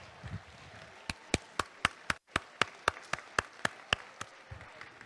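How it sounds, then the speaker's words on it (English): Slow, evenly spaced claps ring out one by one at a high school spring athletics awards ceremony, about a dozen sharp beats in a steady rhythm with a brief gap midway, in a quiet room. "And then we're going to give you a round of applause."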